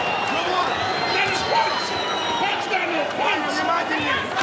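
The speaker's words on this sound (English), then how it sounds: "Left hand there from Usyk, got the crowd going here." A boxing crowd cheering during a heavyweight fight between Usyk and Dubois, a steady roar of shouts and whoops in an arena, with a commentator's voice over it.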